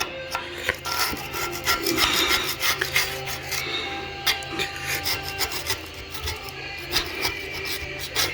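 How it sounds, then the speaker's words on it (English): Hand scraping of grime off engine parts from a 350 engine build, a busy run of rasping, irregular strokes, loud and close without talk. "you just gotta manually scrape all that grime off and then blast everything"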